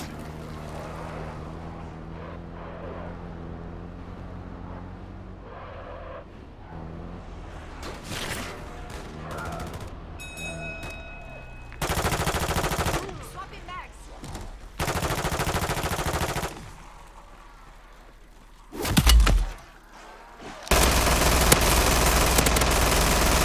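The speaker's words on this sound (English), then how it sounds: "Taking effective fire." Bursts of automatic gunfire from Call of Duty Zombies, loud and close, come in several separate volleys with short gaps between them, over a low mechanical rumble and scattered game sounds.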